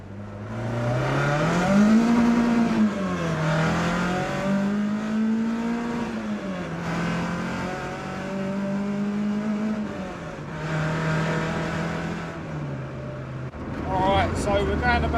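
A car engine held in fifth gear with the handbrake on and a slipping clutch, droning and rising and falling in pitch through several long revs, close and inside the cabin under a voice.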